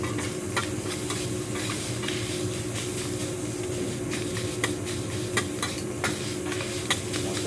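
Food being stirred and mixed with garlic butter in a hot pan, a steady sizzle running throughout with scattered scraping clicks of a utensil against the pan.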